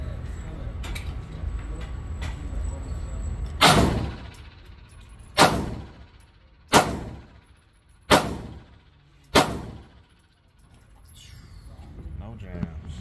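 A Hi-Point C9 pistol fires five sharp, loud shots at an outdoor range, spaced about one to two seconds apart, each with a short decaying echo and quiet background between them.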